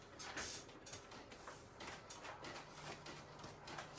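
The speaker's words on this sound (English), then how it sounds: "Sorry about my noisy printer." A noisy home printer runs at a scrapbooking desk, producing faint mechanical whirring with repeated clicking and sliding strokes at a steady pace, quiet and close.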